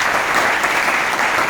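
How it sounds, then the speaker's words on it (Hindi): Dense, steady applause from an audience at a Hindi-language event, a continuous close wash of clapping with no pauses. "चाचा जी का लड़का मिस्टर अमित यादव जी के लिए एक बार दरदार ताली होगी।"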